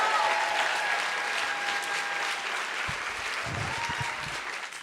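A crowd gives sustained applause to a graduating bachelor's class at a recognition ceremony, a dense, even roar of clapping throughout.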